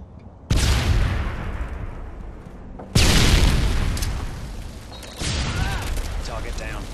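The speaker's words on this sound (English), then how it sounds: "Tossing stun grenade." Stun grenade detonating in a capture-the-flag match on the Scrapyard map of a video game, two loud booming blasts with long decaying rumble, followed by a further burst of noise with faint voice-like sounds.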